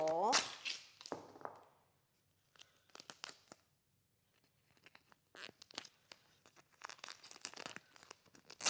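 Strips of tape torn off a roll during a DIY design-wall build, several quick ripping bursts separated by pauses, close and moderately loud, with brief crinkling between tears.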